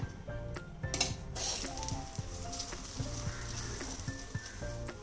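Methi paratha roasting in ghee on a medium flame, a steady low sizzle with occasional clinks of a spatula or utensil against the pan, close and continuous without speech.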